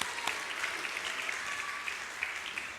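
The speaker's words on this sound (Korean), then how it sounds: "이거 박수 한번 하십시다." Steady applause from a church congregation at a Christmas service, a dense patter of many hands clapping at moderate distance for a few seconds without talk.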